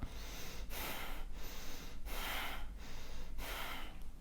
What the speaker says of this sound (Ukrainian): почніть голосно дихати